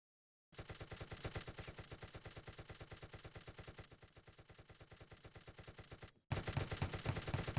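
Rapid automatic gunfire in a video game match, a long steady stream of evenly spaced shots. After a short break a louder burst follows.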